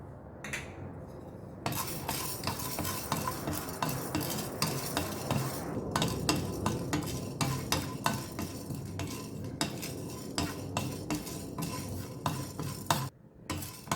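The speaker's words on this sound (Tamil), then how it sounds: "அடுத்தது துவரம்பருப்பு, இதையும் வறுத்துக்கலாம்." Toor dal dry-roasted in a pan while stirred, with repeated scraping and clinking of a spoon against the metal pan and faint dry rustling of lentils, steady and close throughout.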